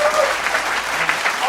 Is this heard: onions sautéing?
no